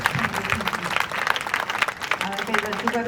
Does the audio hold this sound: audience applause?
yes